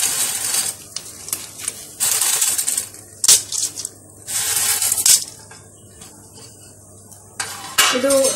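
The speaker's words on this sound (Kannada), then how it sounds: "ನೀರು ಕಾಯ್ದ್ಮೇಲೆ ಹಾಕಿ ನ್ಯೂಡಲ್ಸ್." Homemade noodles go into boiling, oiled water in a pot with several short bursts of clattering, splashing and clanking, separated by near-silent gaps, heard close by.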